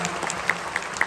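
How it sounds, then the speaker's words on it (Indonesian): Seminar audience applause for the governor, a short burst of many hands clapping with a few sharp, distinct claps standing out over the crowd's patter. "Tepuk tangan dulu boleh ya, terima kasih Pak Gubernur."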